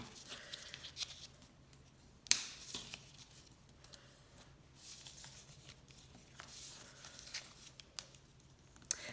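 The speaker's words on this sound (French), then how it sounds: "on va marquer les plis, donc avec du plioir" Bone folder scoring fold lines on paper for a gift box: quiet, close scraping and rubbing strokes with soft paper rustles and one sharp tap, no talk.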